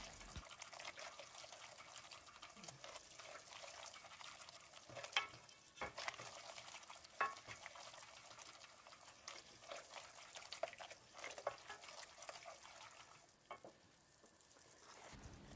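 Flour roasting over low heat in a steel pot, a soft continuous sizzle with intermittent scraping stir strokes of a utensil against the metal, faint and close.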